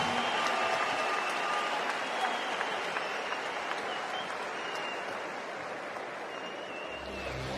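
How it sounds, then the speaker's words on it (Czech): Fight-night crowd applauds both fighters after a bout, dense continuous clapping from a large audience that gradually thins toward the end, with an announcer's voice over it. "Potlesk oběma mužům, dámy a pánové"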